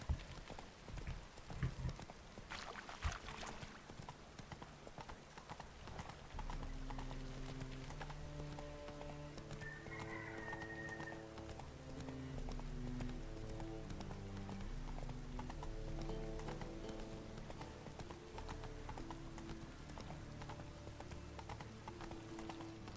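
Roach the horse from The Witcher 3 walking at a steady clip-clop, hooves knocking in an even rhythm under a sustained musical score, with soft rain-like ambience and a brief whinny early on.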